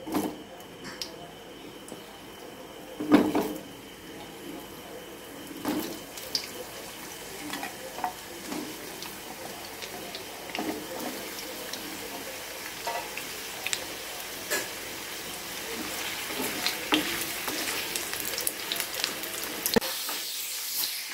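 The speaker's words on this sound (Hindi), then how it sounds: "आलू फ्राई करेंगे।" Potatoes fry in six big spoonfuls of hot mustard oil in a kadai on a gas stove, producing a soft continuous sizzle with occasional stirring clatter and faint background voices.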